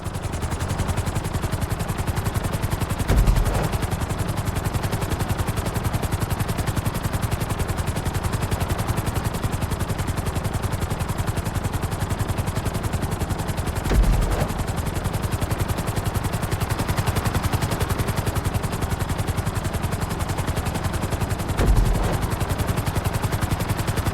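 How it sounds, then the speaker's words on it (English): A steady, loud helicopter rotor drone in the video game Grand Theft Auto V runs without a break, with occasional low thumps standing out from the constant whir. "Bring the helicopter down gently onto the helipad."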